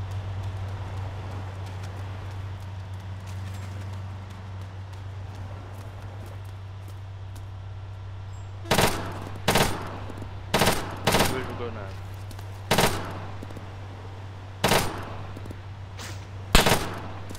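Gunfire in the Arma 3 Altis Life game: about nine sharp, separate shots ring out over a steady low engine-like hum, spaced irregularly across the second half.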